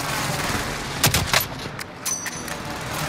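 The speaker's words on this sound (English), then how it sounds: "I'm shooting them" Gunfire in the video game Rebirth: quick bursts of sharp shots clustered together, loud and close, with a few lighter pops trailing after.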